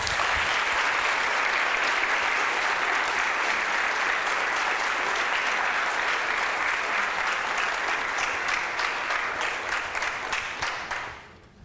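Warm, steady applause from a class audience welcoming a guest speaker, many hands clapping densely and evenly for about eleven seconds before tapering off abruptly at the end.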